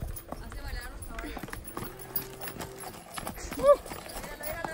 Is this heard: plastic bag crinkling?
no